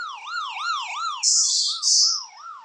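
A wailing siren sweeps up and down in a steady rhythm, broken by two short blasts of harsh, buzzing noise, loud and close.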